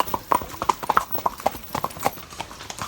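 Horses' hooves clip-clop on a horseback trail ride in San Juan, Puerto Rico, a quick, irregular run of close, crisp hoofbeats from several animals walking together.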